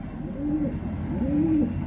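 Racing pigeon (bird number 64) cooing close by in a loft, low soft rolling coos repeating twice across a steady background hum, no talking.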